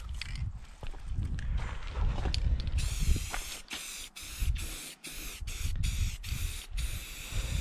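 Spray painting barn timber for a post and beam barn, a loud, close hiss of the sprayer broken by repeated short stops, mixed with thuds and shuffling movement nearby.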